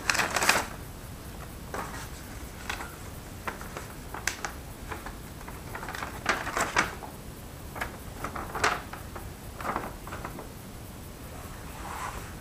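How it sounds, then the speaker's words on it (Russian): Close, intermittent rustling, shuffling and flapping of paper as an envelope and letter are handled during the unboxing of a carp-fishing groundbait parcel, in irregular bursts with quiet gaps. "Это конверт какой-то. Письмо какое-то. Сейчас будем читать."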